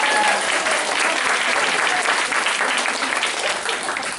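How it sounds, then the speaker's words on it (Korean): A lecture audience claps at a USANA leadership talk, a dense, even burst of applause filling the room from start to finish with no voices. "박수 한번 쳐드릴게요."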